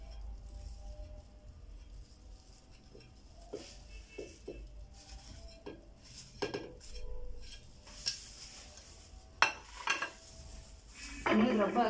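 Chicken tikka marinade with spices being stirred in a bowl: soft scraping and clinking of a utensil against the dish, with occasional wet squishes. Quiet and close, with the clatter building toward the end.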